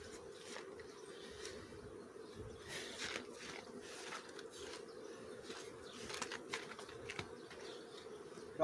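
A honeybee colony kept in an isolator drones with a steady, continuous buzz at close range, with faint scattered clicks and rustles on top and no talking.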